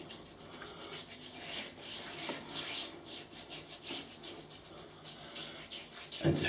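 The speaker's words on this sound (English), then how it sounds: "And just rub it in" Shaving balm being rubbed into beard whiskers by hand, a steady close scratchy rubbing and bristly friction that continues without pause, with no talking.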